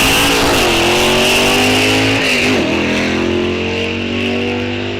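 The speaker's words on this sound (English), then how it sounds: "You can hear him ripping on the gears." A loud drag race car engine at a raceway roars up through the revs, drops sharply at a gear shift, and pulls hard again, with no talk.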